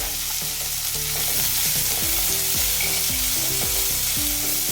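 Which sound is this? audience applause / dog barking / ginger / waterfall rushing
ginger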